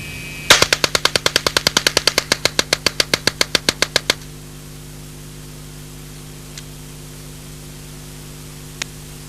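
A 1977 Alan Halla experimental prototype low-recoil submachine gun fires one rapid burst of about twenty-five sharp, evenly spaced shots, loud and close, followed by near silence with two faint distant pops.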